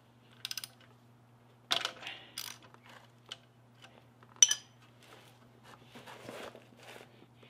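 A 12mm socket wrench works a bolt on a hot Yamaha XT250 motorcycle during an oil change, giving a few short, sparse bursts of ratcheting clicks with quiet gaps and a faint metallic clink.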